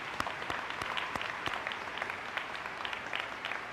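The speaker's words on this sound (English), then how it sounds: "we can give them one more round of applause" An audience at an elementary school opening ceremony gives the teachers a round of applause, steady moderate clapping from a room full of people, fairly distant and even.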